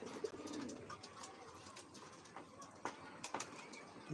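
Young pigeons let out in the afternoon coo repeatedly at close range, soft throaty calls over a faint outdoor background, with no talking.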